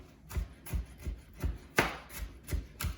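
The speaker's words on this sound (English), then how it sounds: "So we're just gonna chop up the onion super, super fine." A knife chops an onion very fine on a board in quick, regular taps, about eight crisp strokes over a few seconds, close and fairly quiet.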